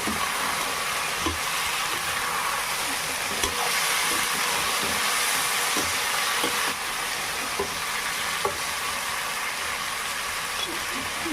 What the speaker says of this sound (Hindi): कोमड़ा डाल देते हैं भून